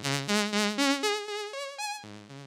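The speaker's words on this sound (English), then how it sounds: "Just the VCO on its own sounds like this" Moog Mother-32 voltage-controlled oscillator alone, playing a stepped sequence of buzzy, harmonically rich synth notes that hop up in pitch and then drop back, loud and continuous with no talk.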